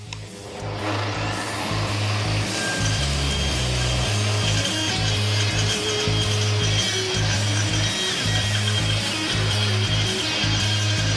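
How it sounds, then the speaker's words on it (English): A Dewalt DWS520 track saw plunges through its rubber splinter guard, the motor running loud and close throughout with a pulsing low hum and bright cutting noise. "You set your blade not too far, just enough to get through the splinter guard, and then you plunge."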